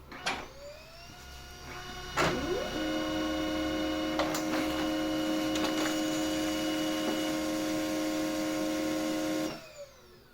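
A Pantum M6518 laser printer with a paper jam problem makes a photocopy. After a couple of clicks it starts a steady mechanical whir and hum with occasional clacks, then stops abruptly near the end.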